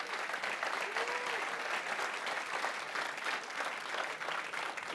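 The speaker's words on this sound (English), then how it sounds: "give each and every one of those 40 teams a huge collective round of applause" An audience at a prize semi-finalist announcement gives a sustained round of applause, dense and even clapping from many hands that holds steady throughout, with a faint voice briefly audible beneath it.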